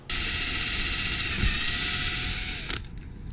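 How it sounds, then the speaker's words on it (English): A power drill whines steadily at high pitch for a few seconds, close up, drilling a part on a 2018 Giant Trance 4 mountain bike, then stops abruptly. "I have to drill this."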